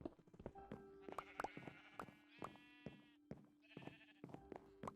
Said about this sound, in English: I'll put a sign up like, ignore sheep sounds.